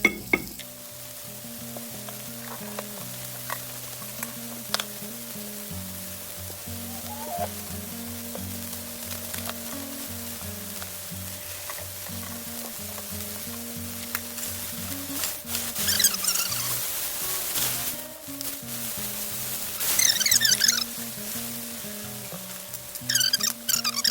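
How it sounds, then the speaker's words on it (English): Steak sears in a hot pan, a continuous crackling sizzle that runs throughout, swelling louder with bursts of spattering when the meat is flipped partway through. "So let's flip this steak and see if I got a good sear or not."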